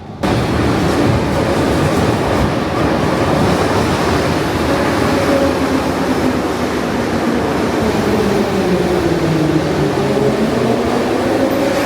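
A metro train pulls in and keeps riding, filling the space with a loud, steady rumbling roar of wheels and motion that never lets up, with no voices over it.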